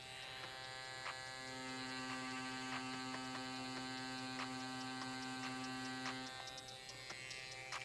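Bronc V8 tattoo machine running while driving a big needle into practice silicone, a steady faint electric hum and buzz with a constant tone and a few small ticks, no voices.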